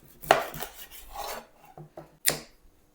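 A kitchen knife trimming and cleaning a whole mackerel on a board: scraping and rasping strokes with a few sharp taps and cuts, close and fairly quiet.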